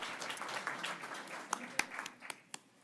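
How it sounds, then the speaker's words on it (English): A meeting audience at a Tennessee workforce development board session gives a small round of applause. The clapping is faint and sparse, with a few distinct sharp claps standing out near the end and a little murmuring underneath. "Let's give him a round of applause"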